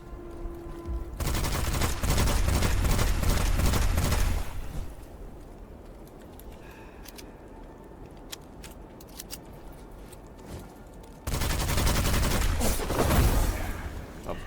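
Loud shotgun fire in the Witchfire video game comes in two dense bursts of blasts, separated by a quieter stretch of game ambience with faint clicks.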